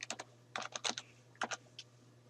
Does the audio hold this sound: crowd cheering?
no